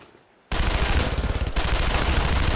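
A sudden burst of rapid machine gun fire in the World War II game Brothers in Arms: Road to Hill 30 breaks out of near silence and keeps rattling loudly and continuously.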